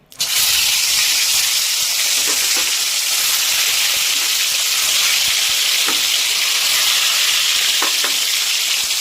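Pieces of Lailontigar fish fry in hot oil, a loud, dense and continuous sizzling hiss close by, with a few faint clicks scattered over it and no voices.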